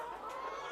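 Cockerels on a large poultry farm cluck in a dense, continuous chorus, a steady mass of overlapping calls at moderate loudness with no voices over it.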